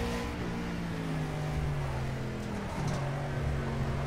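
Race car engine in the Project Cars racing game at Watkins Glen, a steady droning motor tone that holds and shifts pitch as the car drives, close and continuous with no talk.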